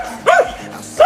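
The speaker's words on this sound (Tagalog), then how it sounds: "meron pa isang dog na maliit" A small dog on a farm property near Tagaytay barks twice, sharp yips about three-quarters of a second apart, close by and loud against quiet background.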